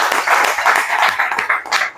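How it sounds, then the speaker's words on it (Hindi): Audience applause welcoming attendees at a meeting, a dense steady clapping that stays loud and close through the whole short stretch. "मैं आप सभी का जोरदार तालियों से स्वागत करना चाहूँगा।"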